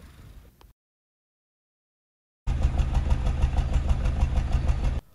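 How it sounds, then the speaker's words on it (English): A brief pause of silence, then a car exhaust with an engine misfire rumbles loudly up close at the tailpipe with a rough, uneven idle. "let you hear the misfire from the tailpipe"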